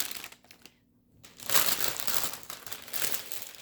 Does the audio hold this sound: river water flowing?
no